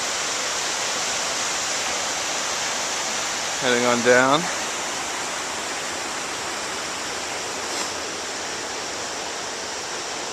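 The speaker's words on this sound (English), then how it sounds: "Pretty nice chute on Little Pigeon River." The Little Pigeon River rushes steadily and loudly through a narrow chute, with someone speaking briefly over the roar.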